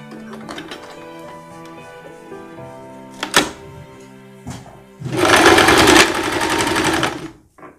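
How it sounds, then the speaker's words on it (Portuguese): A sewing machine stitches the sleeve seams of a summer dress, running in a loud steady burst for about two seconds after softer handling clicks and a sharp knock. "Então, vamos pra máquina agora pra gente costurar essas partes. Então, costurando agora a parte da manga."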